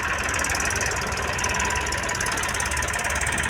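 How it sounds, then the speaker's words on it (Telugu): A tractor engine chugs loudly and steadily close by, a rough mechanical rumble with a rapid knocking pulse that holds constant throughout. "అదిగోండి గాయ్స్, ఇంకో ట్రాక్టర్ అయితే వస్తున్నది."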